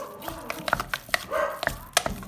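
Several dogs bark in short sharp bursts with a few yips and whines, close and loud in a home kitchen while choux pastry dough is being mixed.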